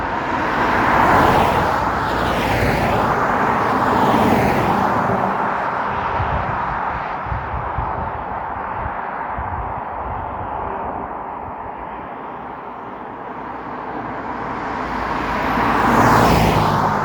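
A car comes round a quiet rural road at night, its tyre and engine noise swelling, easing away, then rising again as another vehicle approaches, fairly close and alone.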